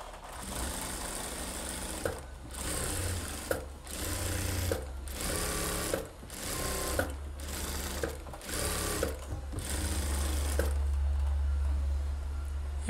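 Sewing machine stitching a blouse lining along a drawn line, a steady close whirring run broken by several brief pauses and restarts, with no voices over it.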